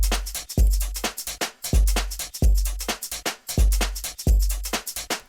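Full electronic drum loop with bus effects off: deep booming kicks on a steady beat with crisp hi-hats and percussion ticking between them, loud and alone.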